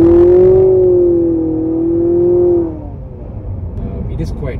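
A 2024 Nissan Altima with front-wheel drive pulling away hard from a standstill, its loud, steady engine drone holding for nearly three seconds before dropping away into rougher road and tire noise.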